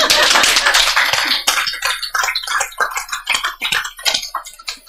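An audience at a Buddhist sutra lecture claps: a burst of dense applause at first, then thinning into scattered, irregular single claps close by, with no talk.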